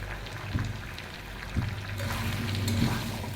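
Chicken pieces frying in a pan with coriander and cumin, a steady soft sizzle with a few stirring knocks, close and moderately quiet.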